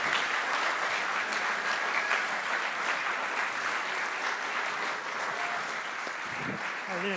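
An audience at a car reveal presentation claps in sustained applause for the team members coming up on stage, a steady dense patter lasting throughout, with a voice briefly audible near the end.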